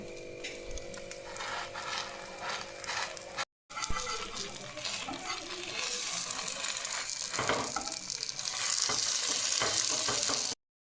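Vegetable-stuffed patishapta fries in a pan with a steady sizzle, broken by a brief silent gap and short scraping or clicking bursts, ending abruptly.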